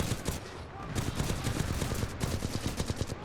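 Rapid gunfire from the video game Titanfall 2 rattles in dense, continuous bursts of shots, loud and close, with a faint voice underneath.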